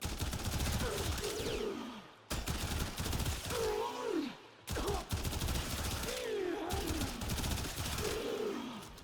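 Rapid automatic fire from the Soma rifle in the Warframe video game, dense sustained bursts with short pauses between them, game effects sweeping underneath.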